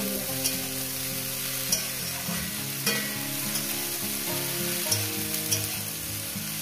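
Mourala fish frying with drumstick flowers in a pan, giving a strong continuous sizzle with scattered crackles and faint stirring scrapes, heard close with no voices.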